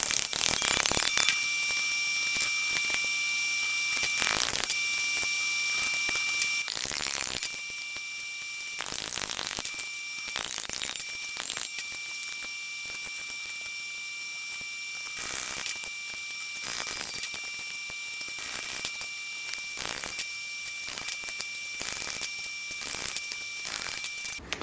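A metal bar for a Gobi ladder on a Toyota 4Runner is bent along a marked one-inch line, giving repeated close metallic scrapes, knocks and creaks in uneven bursts over a faint constant whine, with no voices.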